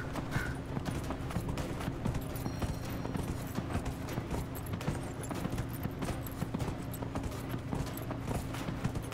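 Horse hooves clip-clopping in a slow horse race in Dragon Age: Inquisition, a steady rapid rhythm of thuds over a continuous bed of sound, loud and close for the whole stretch.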